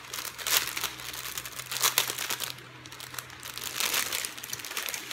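Crinkly plastic packaging is pulled and unwrapped to open newly bought items, making loud, close crackling in uneven bursts with brief pauses between them.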